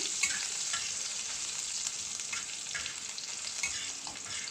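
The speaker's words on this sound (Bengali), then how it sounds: "এটাকে একটু ভেজে নেব এর মধ্যে আমি রসুন কুচি দিয়ে দিলাম" Chopped garlic fries in hot oil in a pan with dried red chillies, a continuous close hissing sizzle with small crackles and pops, steady and unbroken with no voices.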